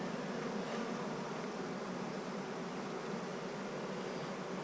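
Honeybees in an open hive hum in a dense, steady buzz that stays loud and close for the whole stretch, with no pauses and no voices over it.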